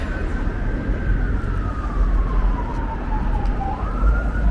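An ambulance siren wails on a Brooklyn street in Carroll Gardens, its slow gliding tone sweeping down and back up, loud and close over a heavy rumble of traffic.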